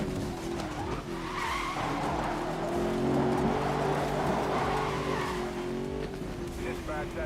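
Nitrous boost in Need For Speed Most Wanted 2012 comes through as a sustained, loud engine roar with tire squeal and rushing wind, while someone talks over the top.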